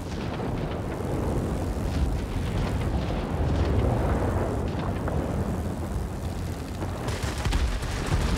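Anti-aircraft flak guns in World of Warplanes: a dense, continuous roar of booming bursts and rumbling blasts, steady and loud, with engine drone blended throughout and no talk.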